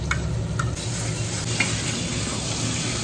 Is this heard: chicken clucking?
no